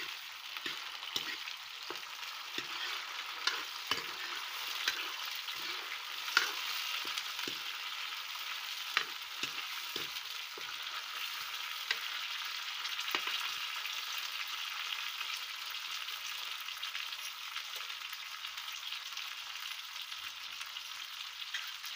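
Four tomatoes sizzle and crackle steadily in a hot pan of cooking oil, a dense continuous frying hiss with a few sharper pops and stirring clicks early on, close and fairly quiet, with no voices.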